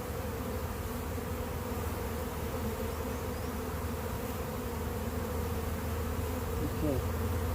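A swarm of honey bees being caught into a box makes a dense, continuous buzzing, close and loud without a break. No voices are heard.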